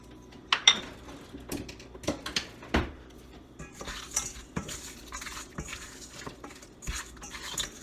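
Seasoned shrimp are mixed in a bowl with salt, paprika and black pepper, giving close, irregular clinks and scrapes of a utensil against the bowl with soft patter between, and no voices.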